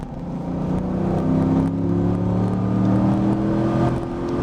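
A Camaro or Corvette sports car driving on the Spring Mountain Motorsport Ranch 1.1-mile track: a steady, loud engine drone with a rising pitch under acceleration, heard from inside or close by.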